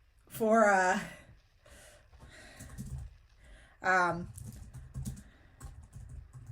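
A question is typed into ChatGPT on a computer keyboard, with soft, irregular key tapping heard close by between two loud bursts of a voice that sounds like a sigh or groan.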